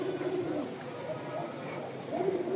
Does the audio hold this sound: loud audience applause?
no